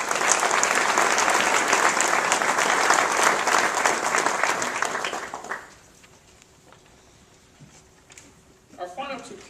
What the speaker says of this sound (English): please join me in applauding his efforts.